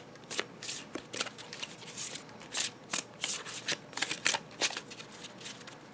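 A brand-new tarot deck is shuffled by hand at close range, a run of quick papery riffles and flutters in irregular bursts, soft and crisp with no talking.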